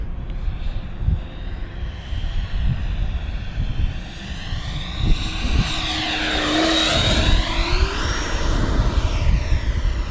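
A 105mm 12s electric ducted-fan RC model jet, the Banana Hobby Aerofoam Diamond, whines overhead, its pitch rising and falling as it passes close by, loud and continuous throughout.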